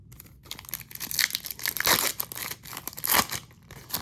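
Foil wrapper of a 2026 Topps Chrome Series 2 trading card pack being ripped open, close and crisp, with several crinkly tearing bursts and rustles over about four seconds, no talking.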